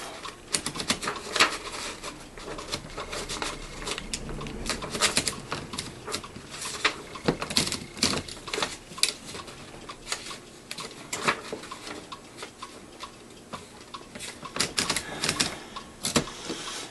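A 1910 Corona 3 typewriter having its keys and carriage tested: irregular bursts of sharp mechanical key strikes and clacks, close and fairly loud, with uneven pauses and no talking.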